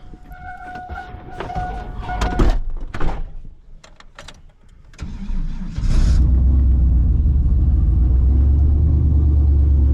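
A turbocharged Chevrolet Silverado pickup with a newly installed gear: clunks and a door come first, then the engine starts and runs loud and close for the remaining seconds.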